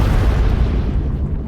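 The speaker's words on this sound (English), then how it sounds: "And then there's a huge explosion." A deep, rumbling explosion effect fills the moment, a loud low boom that rolls on and slowly fades, with no voices over it.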